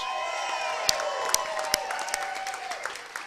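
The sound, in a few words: Chiefs fans crowd cheering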